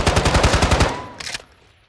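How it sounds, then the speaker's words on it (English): Machine gun hip fire in Call of Duty: Modern Warfare II, a loud rapid burst of about ten close shots, then a short second burst and a fading tail. "And then this is just hip fire fire."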